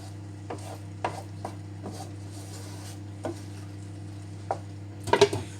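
Rhubarb and cinnamon simmer down in a cooking pot, a soft steady bubbling under a low constant hum, broken by a few sharp clicks and scrapes as if a spoon knocks the pot, with a small cluster near the end.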